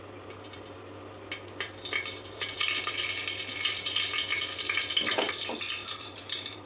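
Sunflower oil and a little ghee go into a cooking pot for Bangalore biryani, a rising wet pour and sizzle building into a steady, close hiss with a few scraping clinks, no voices.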